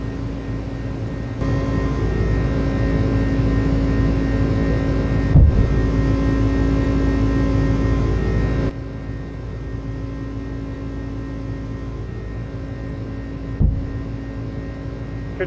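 Jet engines of a UPS A300F cargo plane at takeoff in Microsoft Flight Simulator, a loud steady roar with droning tones that drops in level partway through, with a couple of brief thumps.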